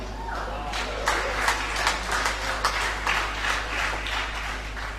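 Scattered clapping from an audience at a sermon or talk, uneven and modest, rising in short bursts over a steady low hum, with no voices.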